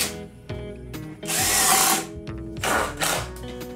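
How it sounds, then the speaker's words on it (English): A power drill bores pilot holes into a wooden dowel for an outdoor game build, with short motor whirs between pauses and two longer, louder bursts of cutting through wood at close range. "I will drill pilot holes"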